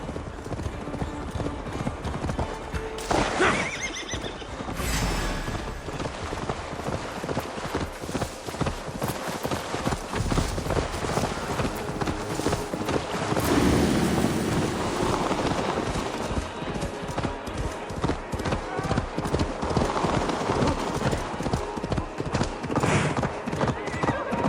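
A horse in the Assassin's Creed Valhalla video game gallops with a steady, close clip-clop of hooves throughout, broken by loud neighs and whinnies over a busy background of motion.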